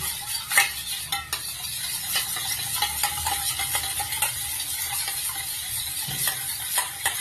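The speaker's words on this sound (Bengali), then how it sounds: "আমার পেঁয়াজ ক্যাপসিকাম ভাজা হচ্ছে" Onion and capsicum fry in a pan with a steady sizzle, while a utensil scrapes and stirs at irregular moments, close by and with no talk.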